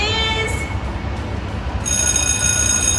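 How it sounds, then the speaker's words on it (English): A bell rings with a sustained metallic tone, fading briefly and then sounding again strongly, over a steady low rumble. "it's the sound of a bell."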